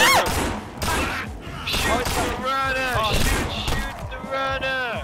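Gunfire aimed at a zombie runner in the zombie survival shooter NMRIH, several loud shots and impacts in quick succession, mixed with voices talking and shouting over them.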